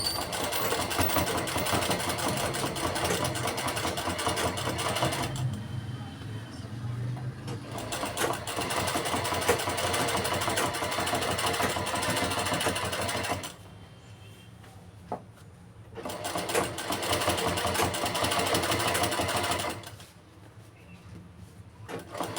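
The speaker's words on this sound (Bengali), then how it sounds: "এবার এই কাপড়টার উপরে সোজা সেলাই করে নিচ্ছি।" A sewing machine stitches a collar onto the body of a garment in long continuous runs of loud, fast mechanical whirring, broken by a few short pauses where the motor stops.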